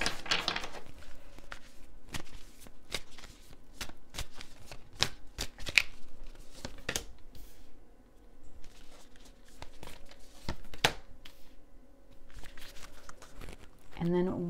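Moonology oracle cards being shuffled by hand, a long run of crisp riffling and slapping card sounds repeating in irregular bursts over a faint steady hum, close and fairly quiet.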